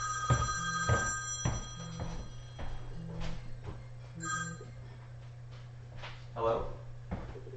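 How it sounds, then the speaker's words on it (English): Phone rings in a room with repeated short tonal bursts over a low steady hum, mixed with knocks and clatter, while a person talks over it. "Oh, my phone is ringing."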